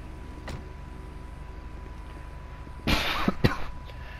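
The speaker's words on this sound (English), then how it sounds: "Coughed on his fucking face." A character coughs in GTA 5 during a police traffic stop, a short burst of rough coughs followed by a sharper cough, heard over a steady low vehicle hum.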